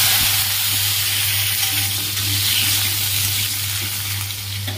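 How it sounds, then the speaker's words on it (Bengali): Potato pieces dropped into hot oil with nigella seeds, frying in a loud, dense, continuous sizzle close by, steady throughout with a faint low hum beneath. "এবার আলুটা ছেড়ে দেবো, দিয়ে দিলাম আলুটা।"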